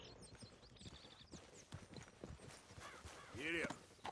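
Horse hooves clip-clop in a steady walking rhythm at moderate distance, with people talking over them and a brief vocal sound near the end.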